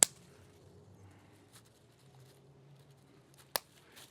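Pruning shears snip bonsai tree branches shorter, giving a couple of crisp isolated clicks over near silence.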